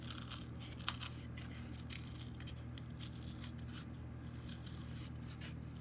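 Scissors snip through cardboard in a series of quiet, sharp cuts and scrapes at an irregular pace, heard close over a low, steady background hum.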